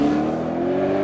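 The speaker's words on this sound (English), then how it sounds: "Want to hear what the most powerful Aussie V8 I've ever driven sounds like?" A supercharged FPV Boss V8 engine from an Australian Ford performance car revs. There is one brief, loud, steady engine drone with a slowly rising tone and no voices.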